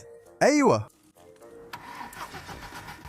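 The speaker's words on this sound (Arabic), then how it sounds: "الموتور بيلف" A car engine in an abandoned police car is cranked and catches, turning over with a rough mechanical churn. A voice speaks briefly just before, then the engine runs under the talk.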